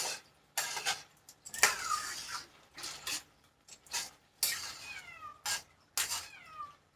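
A cat meows repeatedly in a kitchen, several clear rising-and-falling cries spaced through the stretch, fairly close, with faint clinks of dishes and cutlery in the background.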